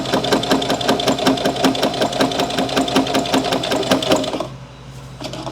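A sewing machine stitches a tea coaster in a fast, steady run of needle strokes, loud and close, then stops abruptly near the end, leaving a low hum.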